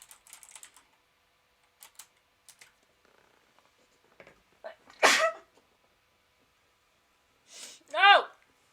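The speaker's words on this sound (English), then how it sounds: "Oh, I have a sneeze." One sharp, loud sneeze bursts out near a computer keyboard, set among scattered, soft typing clicks and followed by a brief voiced exclamation.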